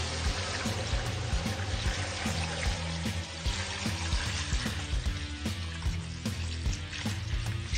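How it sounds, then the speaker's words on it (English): Water pouring steadily into a pot over turkey stock ingredients including white peppercorns, a continuous splashing, trickling stream with no talk. "And we're gonna cover that all with water."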